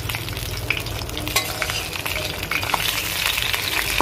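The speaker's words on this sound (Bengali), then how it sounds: "এই যে মাছের মাথাগুলো ভাজছি লাস্টে" Fish heads frying in a pan, a steady, close, crackling sizzle running throughout with occasional stirring clicks and scrapes.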